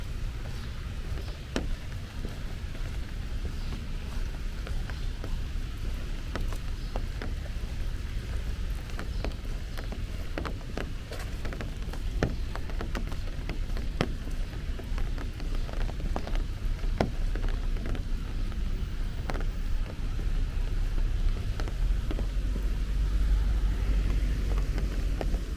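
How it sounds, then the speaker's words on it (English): Rain pours onto tree canopies along a residential Brooklyn street, a steady hiss of drops with occasional sharper patters and light wind, growing heavier toward the end. "Starts to hear that rain hitting the tops of the trees harder."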